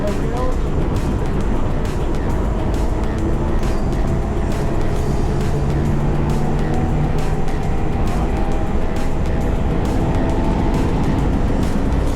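A car laps the Nürburgring Nordschleife with a constant, loud engine and road roar throughout, while someone talks over the noise.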